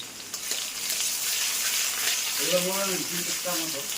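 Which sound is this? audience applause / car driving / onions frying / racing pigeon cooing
onions frying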